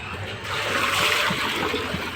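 Water from a gallon container being poured into feed for a recently inseminated pig: a close, steady splashing pour lasting about two seconds.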